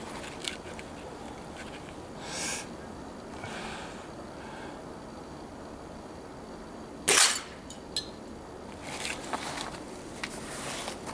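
A Gamo .177 air rifle fires in a backyard, giving one sharp, loud crack-and-smack of the pellet striking the target midway, with a few faint clicks and soft handling noises around it.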